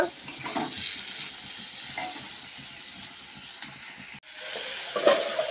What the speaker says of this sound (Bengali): এখানে কটা টমেটো দিয়ে দিলাম কাটা। দিয়ে আমি আরেকটু ভাজা ভাজা করে নেই